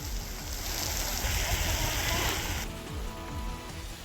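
Heavy rain pours down steadily, a dense, loud hiss of drops hitting surfaces with a continuous wash, during a spell of downpours over Mumbai, Konkan and central Maharashtra.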